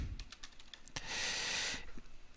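Rapid keyboard clicks as a slide title is typed into presentation software on a computer keyboard, a quick run of close keystrokes then a short burst, alone with no voice.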